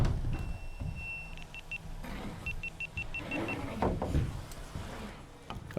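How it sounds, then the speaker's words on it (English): An overheating warning from a GoPro camera on a roof framing job: a steady high electronic tone, then a run of short repeated beeps, heard over site noise and rustling. "that beep was the sound of the GoPro overheating"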